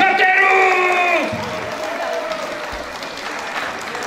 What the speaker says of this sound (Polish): Wielkie brawa dla naszych super bohaterów.